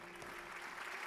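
Concert audience applause at the Jetty Theatre, a soft, steady patter of clapping heard at a distance for about a second, faint and continuous with no voices.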